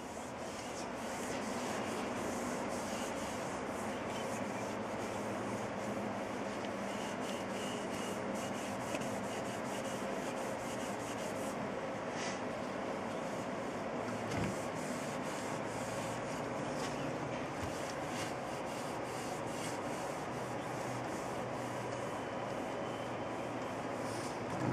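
A rag rubbed steadily over a Ruger 10/22 rifle stock, working refinishing solution into the wood with a continuous close-up swishing friction that holds an even level throughout, no voices.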